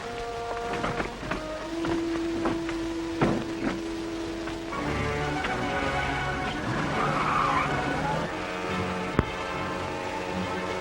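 During a chase scene in a 1939 film, a car skids with sustained squealing tires and a roaring engine, loud and continuous, with a brief sharp crack near the end.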